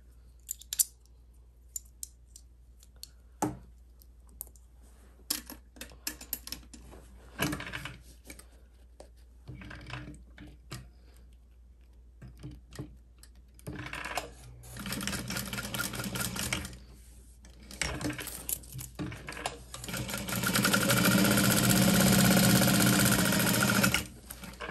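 A sewing machine bastes a seam on a vinyl handbag, starting with short bursts of stitching and sporadic clicks and handling noises, then running in longer loud runs that end in a sustained close stitch.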